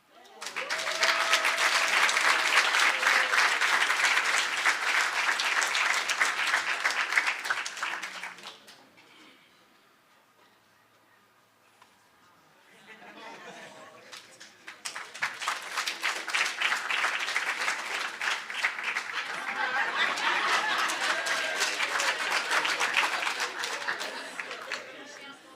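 Audience applause at a university research excellence awards ceremony, a sustained round of clapping that fades into near silence and then swells again into a second long, loud burst of applause.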